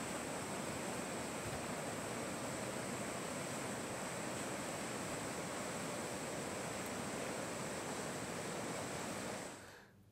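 Swollen rivers and streams after days of heavy monsoon rain in Chhattisgarh rush in a steady, broad roar of floodwater, continuous and uniform throughout before cutting off abruptly at the end.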